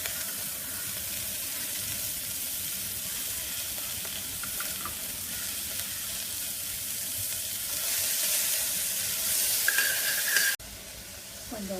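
Onion, tomato, curry leaves, green chillies and capsicum frying in hot oil, a steady close sizzle with light stirring that grows louder near the end, then cuts abruptly.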